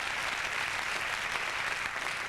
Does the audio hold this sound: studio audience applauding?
yes